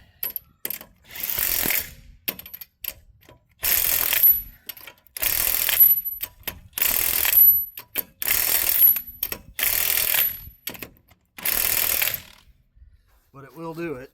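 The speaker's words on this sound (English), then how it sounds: "This 3/4 inch impact, you can actually break lug nuts loose with it" Several bursts from a 3/4 inch impact wrench hammering at lug nuts on a 1995 Hardbody, six or seven loud rattling runs of about a second each with short pauses between them.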